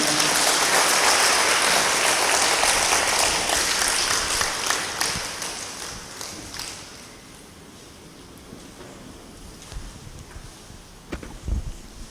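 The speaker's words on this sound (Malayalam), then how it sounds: "നമുക്ക് ഈ കൺവെൻഷൻ ഉദ്ഘാടനം ചെയ്യുന്നതിനായി വരുന്ന കൊച്ചച്ഛനെ കൈയടിച്ച് സ്വാഗതം ചെയ്യാം." Congregation at a Christian one-day retreat convention in Kothamangalam clapping to welcome a priest, loud dense applause that gradually fades away, leaving quiet room noise and a few faint knocks.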